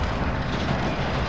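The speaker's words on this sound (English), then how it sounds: "wow, this is an airstrike" An airstrike in the Call of Duty: Modern Warfare Shipment map rumbles as a dense, loud roar of explosive noise that fills the whole moment without letting up.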